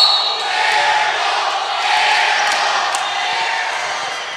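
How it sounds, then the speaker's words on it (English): A student cheering section roaring at a high school girls' basketball game, a dense sustained crowd of young voices yelling and cheering in a gym, loud and continuous for a few seconds. "And the Chargerette cheering section in rare form tonight."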